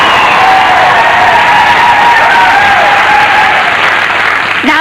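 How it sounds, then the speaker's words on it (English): A studio audience at the dating show Blind Date applauds, a dense, loud, steady wash of clapping with some cheers that carries on for several seconds and fades slightly at the end. "They're in that applaudy mood tonight."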